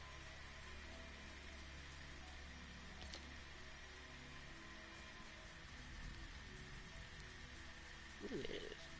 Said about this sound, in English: Ooh, it is raining.